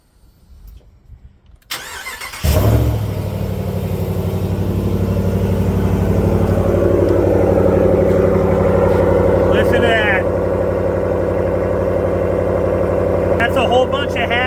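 A 2026 Ram 1500 Big Horn's 5.7 HEMI V8 with GT exhaust cranks and fires at about 2.5 seconds, then settles into a loud, steady, burbling idle up close, with brief sharper clicks near the 10 and 14 second marks.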